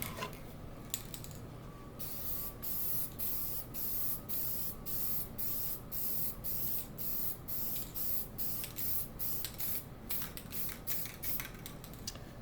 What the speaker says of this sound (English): You can spray it.